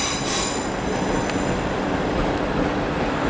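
A South Western Railway class 444 train moves through a station with a steady rumbling roll, high wheel squeal and faint clicks from the rails, loud and continuous throughout.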